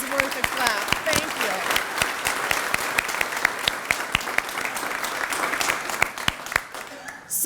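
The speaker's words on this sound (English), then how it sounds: "Yeah, it is worth a clap." Audience applause at the ribbon cutting and grand opening of a health care facility, a dense, steady wash of many hands clapping that carries on for several seconds before fading.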